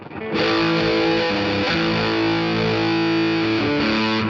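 A loud, sustained high-gain distorted chord from a Les Paul-style electric guitar rings out, thick and saturated, held almost unchanged for several seconds.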